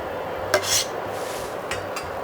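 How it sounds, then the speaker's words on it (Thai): A utensil scoops pandan leaves out of a pot of coconut milk: a couple of soft metallic clinks and scrapes against the pot over a low simmering hiss, with no voice. "เราก็จะตักใบเตยออกเลยค่ะ"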